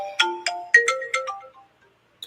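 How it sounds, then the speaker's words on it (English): A phone ringtone plays a short, loud run of bright electronic notes in a quick melodic phrase, heard alone and close, then stops, leaving a brief tail and one faint click. "phone be ringing"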